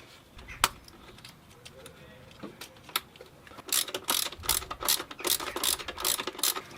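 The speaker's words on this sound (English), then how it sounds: "we put the bolt back in." Ratchet clicking while a bolt is fastened back into a Volvo 850 engine during head gasket work, a few isolated clicks followed by a quicker run of ratcheting, with people talking faintly nearby.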